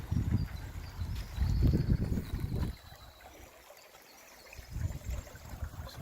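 Plover River water rushing and gurgling over rocks at a rock-hop crossing, fairly close, with louder surges broken by a quieter stretch midway; no voices.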